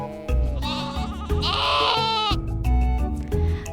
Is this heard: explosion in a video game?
no